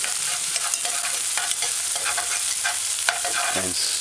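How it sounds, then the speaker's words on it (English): Mashed garlic sizzles and fries in a hot pan while being stirred, a steady close crackle with scraping strokes of the spoon, for a Rastafarian vegetarian vegetable rundung dish. "About 20 seconds after, add mashed garlic"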